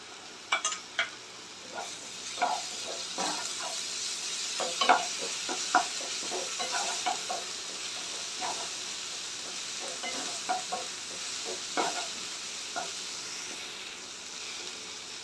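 Onions sautéing in a pan with ginger-garlic paste for mutton pepper fry: a soft hiss with irregular scraping and stirring clatters, close by, with no one talking.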